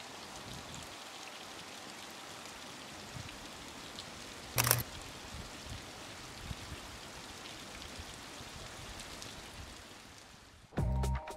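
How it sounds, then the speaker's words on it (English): Light rain falls steadily outdoors as a faint, even patter, broken by a single sharp click partway through and a brief louder thump near the end. "Too bad it's not raining a little heavier"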